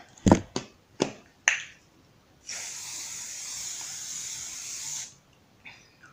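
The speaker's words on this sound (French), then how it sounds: "Donc, le petit spray." Kiko setting spray hisses out in one steady burst of about two and a half seconds, close to the mic. A few sharp taps or clicks of the bottle come before it, and faint handling noise follows.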